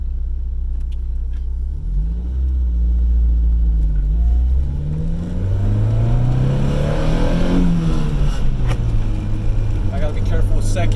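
A 1980 Porsche 924 Turbo with its original transmission, worn synchros and a grinding second gear, accelerating hard: a loud, close engine drone rising in pitch through the gears, with a shift partway through and a steady climb after.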